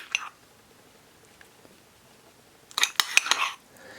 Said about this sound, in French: Alors je mélange la glace à la vanille.